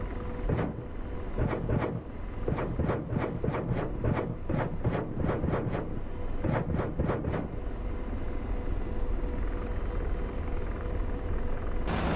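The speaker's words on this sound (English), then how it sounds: "Here come the rockets." An Apache helicopter in the DCS World combat game fires a rapid salvo of rockets, a quick string of about fifteen sharp whooshing launches in two bursts, over a constant loud rotor and engine drone.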